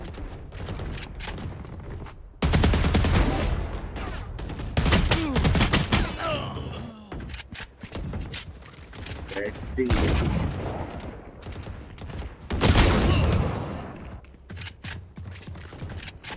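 Gunfire rattles through a round of Valorant: loud bursts of automatic fire and single shots come in clusters, with mechanical clicks between them. Someone talks in Hindi over the shooting.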